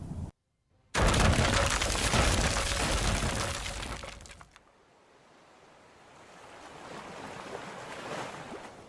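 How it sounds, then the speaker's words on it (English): Stormy ocean waves crashing as a radio drama sound effect during a shipwreck scene: a loud roaring surge of surf that swells, drops away, then builds again into a lower rushing wash, with no voices. "Oh, now the waves."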